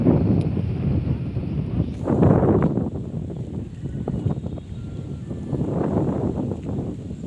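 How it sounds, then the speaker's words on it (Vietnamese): Wind gusting outdoors on a mountainside, roaring and buffeting the microphone in broad waves that swell and ease over several seconds, with no voices over it. "Gió rất là mát mẻ."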